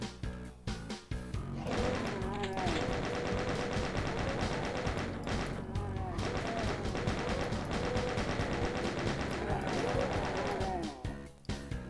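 Rapid gunfire from gunner enemies in the video game Doom fills the clip, dense and sustained with a few short breaks, over a continuous layer of game noise.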